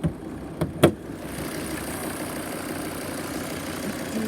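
A Volvo V50 D4 diesel engine idles at a steady, even rumble, with a few sharp clicks or knocks near the start. No one speaks over it.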